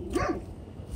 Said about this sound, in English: That dog is so noisy.